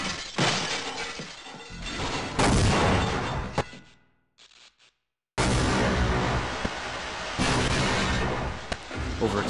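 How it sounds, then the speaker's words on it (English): A video game explosion set off by whacking a soda machine hard enough to blow through a wall and burst a steam pipe: a loud shattering crash with crackling debris, a brief near-silent gap, then another roaring sustained blast. "whacking a soda machine could create such an explosion that it blows through the wall and bursts the steam pipe"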